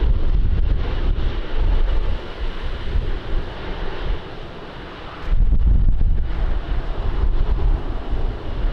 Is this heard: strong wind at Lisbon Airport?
yes